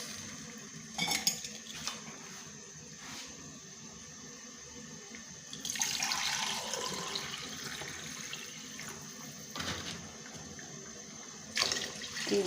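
Yakhni stock poured into a cooking pot for Karachi-style pulao, a wet splashing and trickling with a few metallic pot clinks, moderately close and steady, with no talking.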